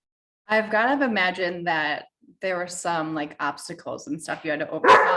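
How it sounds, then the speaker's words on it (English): A pet dog barks and yips in the background of an indoor podcast recording, partly buried under a person talking. "Sorry, that was my dog."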